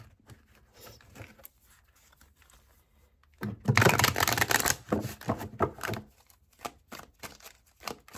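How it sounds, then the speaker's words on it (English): Tarot cards being shuffled by hand, a quiet soft riffling and patter that swells into a denser burst of card flutter, then continues as scattered light flicks. "Spirit said shuffle it one more time"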